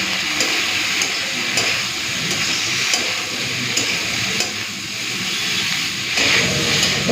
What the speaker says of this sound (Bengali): এরপর ভালো করে ভেজে নেব